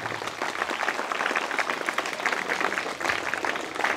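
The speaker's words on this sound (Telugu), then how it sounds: "మల్లన్నకు మనం అంత మనస్ఫూర్తిగా మళ్ళొకసారి ఘనంగా చప్పట్లతో చెప్పాలి." A crowd at a government school event, where Mallanna handed out shoes to students, claps warmly for him in dense, continuous applause lasting the full four seconds.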